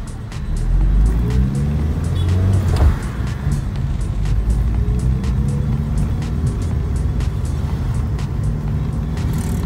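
A car on a test run at night cruises along with a steady, loud engine and road rumble, shifting slightly in tone early on, with no voices.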